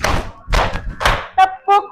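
A class of pupils in an Indonesian school lesson clapping together on the teacher's count: three loud, sharp group claps about half a second apart, then a couple of short voiced calls.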